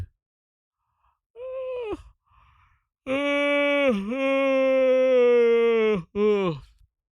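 A long, drawn-out human yawn that swells and trails off with breathy, voiced groaning, heard up close in a quiet room, preceded by a brief vocal sound.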